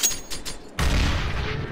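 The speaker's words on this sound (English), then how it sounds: "Grenade out!" A grenade going off in Counter-Strike: Global Offensive, a sudden loud boom that cuts in after a short lull of faint game sounds and rumbles on to the end.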